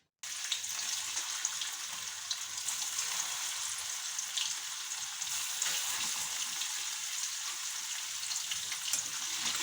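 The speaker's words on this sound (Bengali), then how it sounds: "তেলটা গরম হয়ে গেছে, এইবারে আমি পনিরগুলো একটা একটা করে ছেড়ে দেবো।" Paneer pieces dropped into hot oil give a continuous bright sizzle that starts abruptly after a short silence and keeps crackling evenly at close range.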